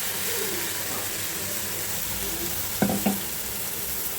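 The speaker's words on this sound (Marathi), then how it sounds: "आता त्याच्यामध्येच मी प्युरी हा घालून घेतलेला आहे।" Onion and tomato puree frying in oil in a pan, a loud, continuous sizzle with stirring, broken near the end by a couple of sharp clinks of a utensil against the pan.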